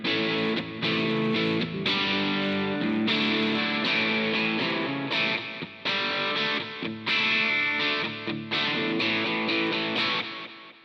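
An electric guitar plays through a Positive Grid Spark Mini amp on its lead distortion setting, a saturated, bright tone with sustained notes and short phrases, loud and close with no talking.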